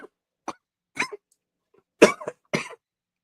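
A person coughs in a short series of close, dry bursts, with brief gaps between them and a couple of coughs bunched together near the end.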